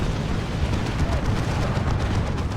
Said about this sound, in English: Manticore striking at something.